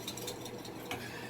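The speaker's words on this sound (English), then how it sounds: "Now I'm just going to start to whisk." Eggs whisked in a bowl for a seafood medley, a steady close scraping and clinking of the whisk that runs without pause and without talk.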